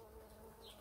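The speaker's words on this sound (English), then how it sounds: "we've got a little visit from a bee here on" A bee buzzes among the eggplant flowers in a garden polytunnel, a faint steady hum close by that lasts under a second.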